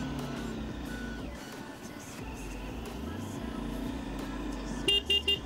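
Ankara street traffic jam heard from a Dominar 400 motorcycle, with engines rumbling under a voice, then a car horn honking in three short, loud blasts near the end.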